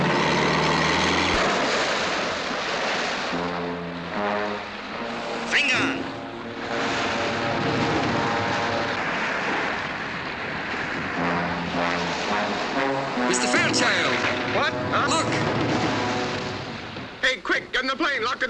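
A propeller airplane engine drones loudly and steadily throughout, with overlapping voices and a few sharp clatters near the end.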